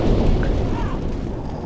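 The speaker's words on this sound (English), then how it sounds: "I get set on fire like I was a giant spider or something" In the Demon's Souls video game, an enemy's fire attack sets the player ablaze, a loud, low, rumbling roar of flames lasting under two seconds with no talking.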